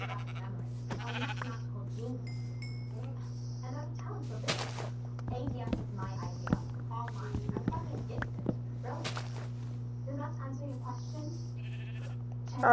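Sheep bleating in Minecraft, a few short game bleats under casual talk over a steady background hum, with footsteps and other game sounds mixed in.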